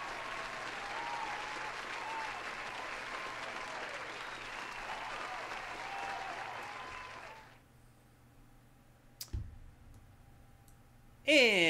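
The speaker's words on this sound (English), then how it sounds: "Here's another round of applause" Dense applause from an audience that runs steadily for about seven seconds, then cuts off abruptly and leaves near-silence broken by a couple of brief clicks.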